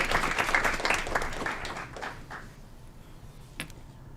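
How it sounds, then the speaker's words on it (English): Crowd applause for Webelos scouts of Pack 643 at a city council meeting, dense clapping that tapers off over a couple of seconds, followed by quiet room noise and a single knock. "Another round of applause for the Webelos, Pack 643."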